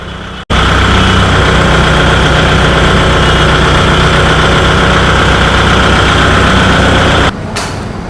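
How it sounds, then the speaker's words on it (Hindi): Kubota tractor engine idling, a loud, close, steady diesel drone with a constant low hum and even pitch held for several seconds before a brief drop in level at the end. "बिल्कुल साइलेंट मोड पे ट्रैक्टर है और ना इसके कोई कंपन वगैरह है।"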